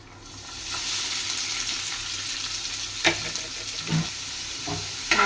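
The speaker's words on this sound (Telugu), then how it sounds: "మంచిగా కలుపుకోవాలి ఆనియన్స్ అన్నీ కూడా గోల్డెన్ కలర్లో ఫ్రై అవ్వాలి" Chopped onions sizzle in hot oil with dried prawns for a tomato and prawn curry, a steady close hiss broken by a few clacks and scrapes of stirring, with no talking.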